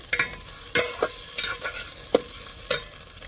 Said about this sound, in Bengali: যে ভালো করে মশলাটা পেঁয়াজটার সঙ্গে নাড়া দিয়ে নেবে